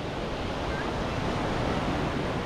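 Sea waves wash steadily onto Kamala beach in Phuket, a continuous broad surf roar with some wind noise on the microphone and no distinct breaks.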